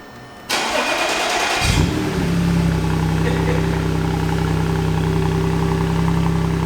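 An Audi S5 engine starts after exhaust muffler work, catching with a sharp burst and then settling into a steady, loud, rumbling idle that continues unbroken to the end.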